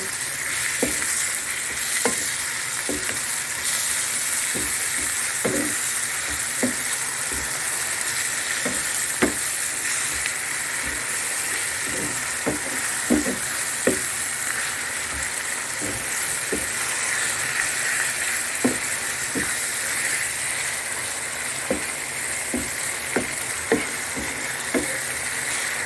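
Vegetables for egg sauce fry in a pan with a steady, even sizzle, while frequent sharp clicks and taps from stirring utensils land irregularly over the crackle; no voices.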